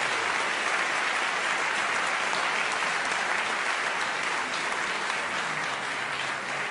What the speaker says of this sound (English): I have to really give them a round of applause